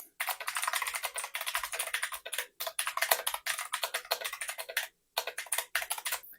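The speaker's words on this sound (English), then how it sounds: "the typing experience with this keyboard" Typing on a Black Emblem K2 aluminum mechanical keyboard: dense, rapid runs of close, crisp tactile key clacks in bursts separated by brief pauses, with no voices.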